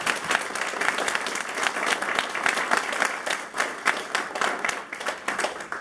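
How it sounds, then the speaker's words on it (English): Lively round of applause from an audience at a community candidate forum about saving elementary schools, with crisp individual claps standing out in a steady, fairly close crowd clapping that swells and dips slightly over several seconds. "So a round of applause for her."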